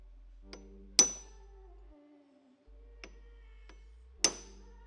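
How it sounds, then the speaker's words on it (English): Several sharp metallic taps of a hammer on a fine punch, staking the shaft nut on a dirt bike rear shock; three distinct close strikes spaced about a second or more apart, with ringing decay and quiet between. "Gonna need a little bit finer of a punch for this one."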